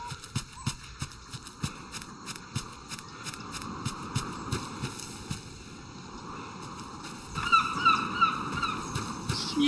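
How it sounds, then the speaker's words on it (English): Raspy, honking bird calls come from seagulls in the survival video game Miasmata, repeated bursts over a rhythmic thudding of footsteps, with a clearer cluster of cries near the end. "Seagull."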